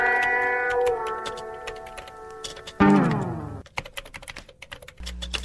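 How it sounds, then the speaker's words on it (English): Someone types on a computer keyboard during a live talk show, with clustered, close key clicks and a few louder strokes, and brief tonal sounds at the start and middle. "Just use the keyboard."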